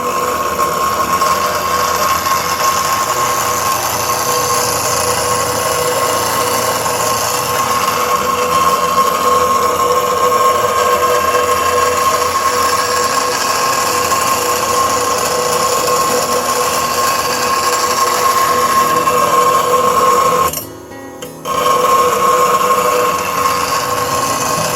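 A grinder for sharpening woodturning tools runs steadily, a loud continuous whine with a sustained hum that briefly drops out and then picks back up near the end.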